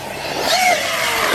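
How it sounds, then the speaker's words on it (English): An Arrma Talion 1/8-scale 6S RC car throttles up hard, its electric motor giving a brief, rising high-pitched whine with a whoosh of tyres, close and fairly loud throughout. "See, when you throttle up too hard."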